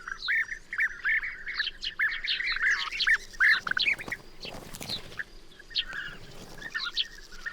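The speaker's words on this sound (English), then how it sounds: "Bee-eaters are gregarious birds. Some colonies number in the hundreds" A breeding colony of bee-eaters along the Danube in Serbia fills the air with dense, overlapping rolling calls from many birds at once, near and fairly loud, with a few harsher squawks mixed in and no talking.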